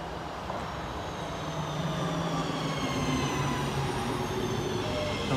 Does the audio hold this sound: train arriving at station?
yes